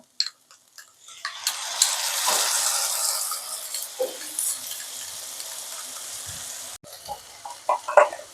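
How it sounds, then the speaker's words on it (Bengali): Tomato paste hits a pan of frying ginger and green chillies for a vegetarian potato and pointed gourd korma, bursting into a loud, close sizzle that slowly settles, with a few clinks of a spoon stirring. "আদা কাঁচা লঙ্কাগুলো একটু ভাজা হয়ে গেছে, এরপর আমি দিয়ে দিচ্ছি টমেটোর পেস্টটা"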